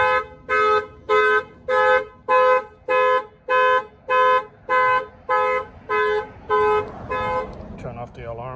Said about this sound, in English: Alarm fires off.